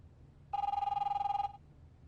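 A telephone rings in The Wolf Among Us video game, one steady electronic trill lasting about a second, then quiet room tone.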